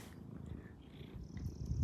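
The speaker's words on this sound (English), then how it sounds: "And he's purring" A tortoiseshell barn cat purrs close by, a low continuous rumbling purr that grows slightly louder toward the end, with faint background noise and no talk.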